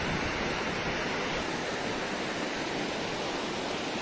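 Steady, dense roar of falling water at a waterfall running low on flow, a continuous broadband rush that stays even and close throughout with no voices.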